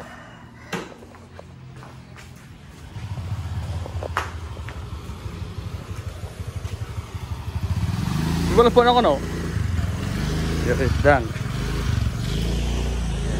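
A motorcycle engine idles, then revs up louder partway through, with people talking over it.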